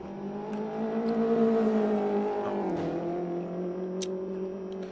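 Race car engine droning at steady high revs on track in a sim racing game, a smooth sustained tone that dips briefly as the car shifts or brakes, then carries on evenly.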